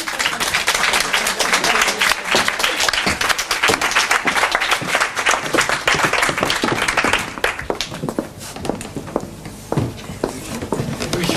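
Audience applause at a singing contest, dense clapping from a crowd that stays loud and steady, then thins out into scattered claps toward the end.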